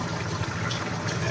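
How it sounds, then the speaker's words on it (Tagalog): Dissolved cream of mushroom liquid poured into a pan of chicken liver and gizzard, a soft continuous wet gurgle and splash of moderate loudness, no voices over it. "Ilalagay na po natin yung ating cream of mushroom."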